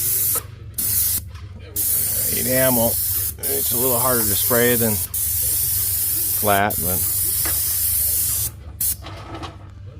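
Bursts of hissing spray from a Graco airless paint sprayer applying enamel through a low-pressure overspray tip come in several long passes, with someone talking between and over them.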